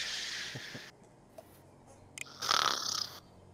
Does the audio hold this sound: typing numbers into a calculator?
no